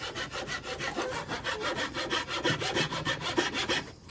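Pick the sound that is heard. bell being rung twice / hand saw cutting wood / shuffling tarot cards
hand saw cutting wood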